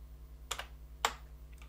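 Typing on a computer keyboard of a 6502 CP/M machine: a few quiet, close key clicks, two distinct presses about half a second apart and a faint third, over a low electrical hum.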